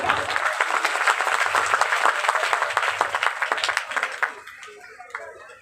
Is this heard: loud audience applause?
yes